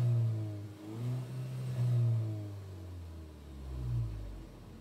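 A warmed-up 1.8 TSI car engine runs steadily, a low rumbling hum that swells gently as it is revved a couple of times, heard close with no talking.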